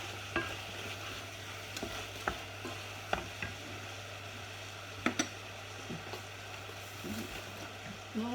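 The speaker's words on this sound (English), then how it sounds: "And you stir it through gently" A spoon gently stirs sugar into a porridge-oat fruit crumble mixture in a bowl, faint soft scrapes and taps at irregular intervals over a low background hum.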